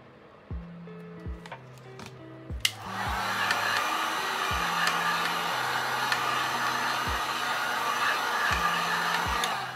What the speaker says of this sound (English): This is actually a heat gun. It gets a lot hotter than a hair dryer.